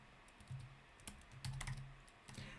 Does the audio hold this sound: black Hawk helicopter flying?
no